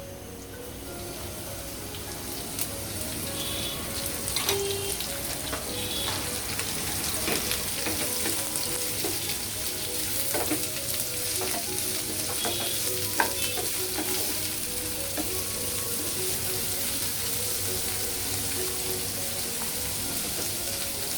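Steady sizzling and crackling of pointed gourd frying in oil, with spatula scrapes and stirring throughout, no talking.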